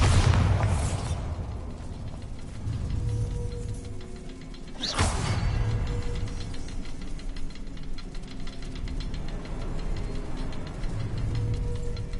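Bombarda blast spell from Hogwarts Legacy: a sharp explosive burst near the start and another loud crack around the middle, each decaying into rumbling debris over quiet ambient game sound.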